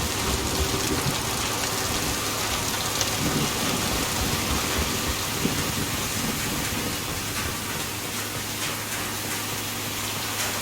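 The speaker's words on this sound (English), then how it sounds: "The rain actually sounds like it's hitting metal." Rain drums on metal in the game Mass Effect 2, a constant hissing patter layered over a low steady hum, even and unbroken with scattered faint knocks.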